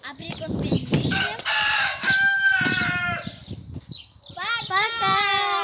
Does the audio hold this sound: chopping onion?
no